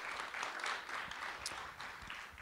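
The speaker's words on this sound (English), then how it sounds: "I think you should give her a round of applause too for that." Audience applause at a roundtable panel discussion on justice policy, a steady wash of clapping at moderate-to-faint level throughout, with no talk over it.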